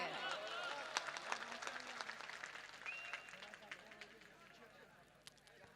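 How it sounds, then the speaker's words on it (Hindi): Audience applause at a public speech in Darbhanga, with scattered claps fading out over a few seconds, fairly distant and soft against room noise. "इसका अंदाजा हमें आपकी तालियों से लगता है कि पसंद नहीं आया"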